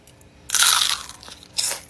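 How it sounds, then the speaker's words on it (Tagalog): Crispy lumpia shanghai being bitten, two loud close crunches about a second apart with no talk over them. "And meron din palang Shanghai na malutong."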